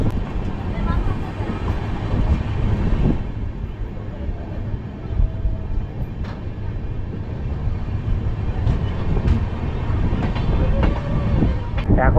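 The Amritsar Mail passenger train runs from Howrah toward Amritsar, with a steady loud rumble and rattle of the carriages. Wind noise blows throughout, and a voice may be faintly present underneath.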